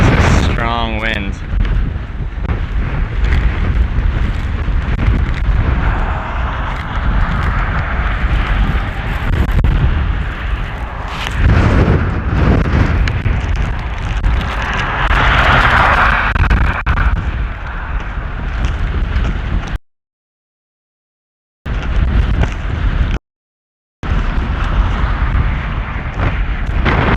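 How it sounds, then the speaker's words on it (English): Strong wind buffets a helicopter in flight over the Rocky Mountains, a loud, dense roar of rushing air and rotor noise. A voice talks briefly near the start, and the sound cuts out twice near the end. "That is a strong wind."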